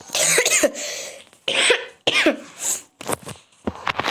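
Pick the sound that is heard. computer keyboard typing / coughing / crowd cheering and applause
coughing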